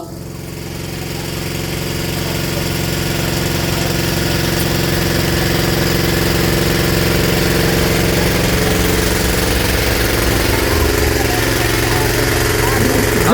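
A tractor engine idles and runs steadily at a devotional procession as devotees board, a continuous low drone throughout with voices over it.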